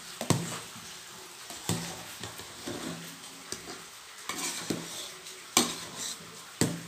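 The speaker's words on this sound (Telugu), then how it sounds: "ఈ పప్పు బియ్యము ఈ ఉడికిన కూరగాయలన్నీ ఈ విధంగా కలపాలి." Cooked dal, rice and vegetables stirred together in a metal pot for bisi bele bath, with repeated scraping clanks of the spoon against the pot and soft squelching between strokes, close and alone.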